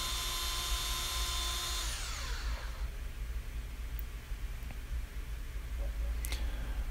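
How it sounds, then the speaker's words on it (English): Belt sander, flipped upside down, dressing cork inserts: a steady, loud motor whine that drops in pitch partway through as the work presses on the belt, with a few faint clicks and no talk. "I took my belt sander, turned it on its top, and you see me dressing down the cork on it"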